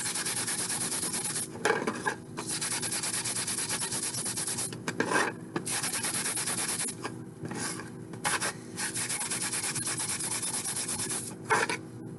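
A metal disc pendant is hand-sanded to a sanded finish with a continuous close scratchy rubbing, broken by a few brief pauses. No talking.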